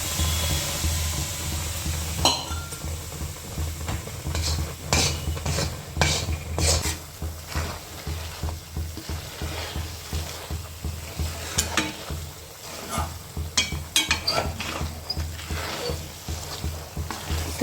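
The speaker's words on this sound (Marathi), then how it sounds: "तर मी आता हे सर्व तूप टाकून घेत आहे।" Ghee poured into Mysore Pak batter and stirred in a pan, with a soft sizzle under repeated scraping and clinking of a spoon against the metal pan.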